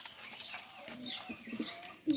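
Sirazi pigeons coo softly inside a rooftop loft, low murmuring calls rising and falling in a quiet space, with a slightly louder burst near the end.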